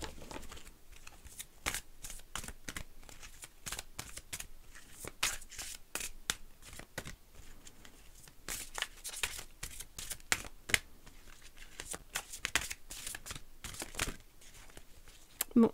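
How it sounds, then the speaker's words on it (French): Oracle cards for a tarot-style reading being shuffled by hand, giving a steady run of soft, quick papery riffles and flicks heard close up and fairly quiet throughout, with no talking over them. "nous terminerons le tirage avec une petite carte conseil de l'oracle d'Isis"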